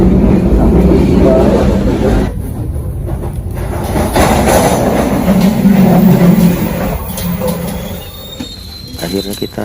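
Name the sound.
KA Malabar train running on rails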